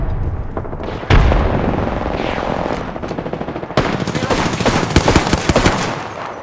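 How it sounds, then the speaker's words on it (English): Bursts of rapid enemy gunfire in a battle-royale video game, loud and close, with sharp single shots followed by sustained automatic fire crackling over several seconds. "The enemies are shooting at me."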